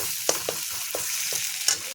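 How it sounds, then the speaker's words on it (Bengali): Spice paste with chilli powder sautéed for egg curry, a close crackling sizzle punctuated by four or five sharp stirring scrapes in quick succession, stopping abruptly. "এর মধ্যে দিয়ে দেবো লঙ্কা গুঁড়ো, এটা দিয়ে একটু কষিয়ে নেব।"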